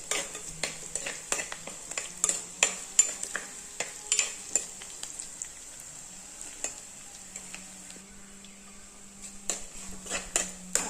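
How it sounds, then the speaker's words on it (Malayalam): Ginger, garlic, shallots and green chilli sauté in coconut oil after mustard seeds have popped, with frequent spoon clinks and scrapes against the pan over a low sizzle and a faint steady hum. "വെളുത്തുള്ളി, ഇഞ്ചി, ചെറിയ ഉള്ളി, പച്ചമുളക്, കടുക് പൊട്ടിച്ചതിന് ശേഷം അതെല്ലാം കൂടെ ഇട്ട് വഴറ്റി."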